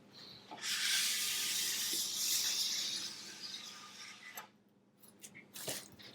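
A scraper drags wax off a snowboard base in a long, loud rasping stroke lasting a few seconds, followed by shorter, lighter scrapes and taps close by.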